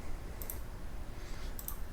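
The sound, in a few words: mouse clicking in CaDe Simu software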